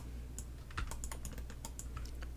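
Fast, light clicking of a computer mouse or keys at a workstation while working in Maya 3D graphics software, a quick irregular string of soft taps over a low steady hum, with no talk.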